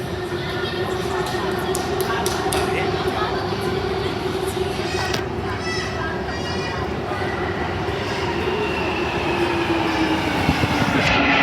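A London Underground train heading to Stanmore arrives at a platform, its steady loud rumble and rail noise filling the station with a falling whine near the end and faint voices in the background.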